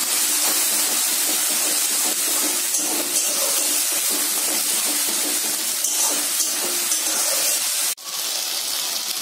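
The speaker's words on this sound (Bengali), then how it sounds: "মিক্স করে নিব এবং মশলাটা ভালো করে কষাবো" Masala spices for mushroom masala fry in a pan with a steady, loud hiss and sizzle that continues without a break, close by and heard alone.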